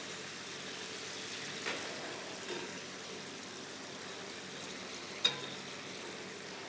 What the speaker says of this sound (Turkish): patatesleri kızgın yağda kızarttık derin yağda